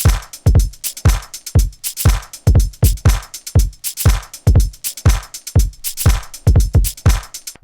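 A Pioneer DJS-1000 beat loops with heavy, evenly spaced kicks and snappy hits while a shaker adds a continuous rattling layer on top. The playback is close and upfront and has no voices.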